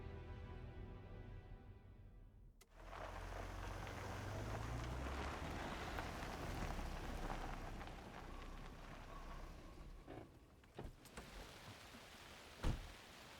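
Nighttime rain pours in the video game Alan Wake II, starting after a soft tonal passage and settling into a steady broad hiss with a few sharp knocks near the end.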